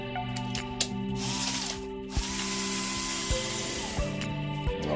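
Screws being backed out of hair clipper blades to take the blade set off, a close, steady run of small ratcheting, grinding mechanical clicks with a few sharper ticks, no voices.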